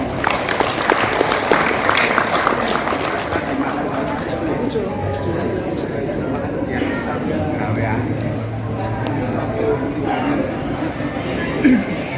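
Audience applause at an education policy evaluation event in Yogyakarta after a performance of songs, sustained clapping from a crowd with some background chatter, steady and even for the whole stretch.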